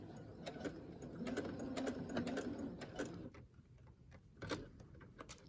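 Sewing machine stitching through cover fabric for a journal, a steady close mechanical whir with rapid ticking needle strokes, easing off and pausing briefly before starting again.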